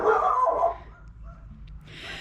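A dog barks in a short, loud burst at the start while outdoors during an end-of-season garden cleanup, followed by quieter background sounds.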